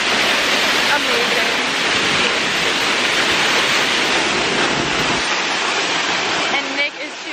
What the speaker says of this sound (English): So we made it to Looking Glass Falls. I have my coffee. And this waterfall is amazing.